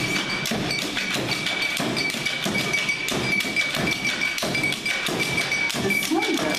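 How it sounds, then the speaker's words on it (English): Slender, tall tamboo bamboo tubes tapped on the ground keep up a busy, continuous beat, with a voice speaking above the rhythm. "The slender and taller bamboo tapped on the ground were called the full."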